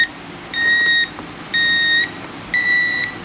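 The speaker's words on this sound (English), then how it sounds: "There's where your beeper is." A Sunbeam 887-05 alarm clock's beeper sounds three shrill electronic tones, each about half a second long, evenly spaced and heard up close with no voices.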